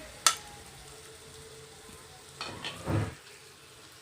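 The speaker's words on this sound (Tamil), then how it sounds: "ஈரல் ஒரு 2 நிமிஷம் வதக்குனிங்கனாலே போதும்" Goat liver pieces fry with tomato in a pan, making a soft, even sizzle broken by a sharp utensil tap and a few scraping stirs against the pan.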